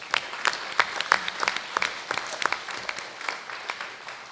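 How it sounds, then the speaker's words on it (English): Applause for students at a Board of Education meeting, a fairly small group clapping with distinct individual claps standing out, moderately loud and steady before thinning slightly. "So round of applause for those students"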